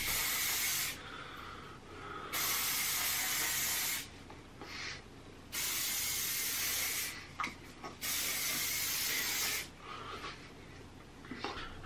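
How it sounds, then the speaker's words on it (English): Living Proof Flex hairspray sprayed onto hair in three long hissing bursts, each lasting over a second, close and loud, separated by quieter pauses with faint rustling. "So what we're gonna do is we're gonna spray this bad boy with hairspray."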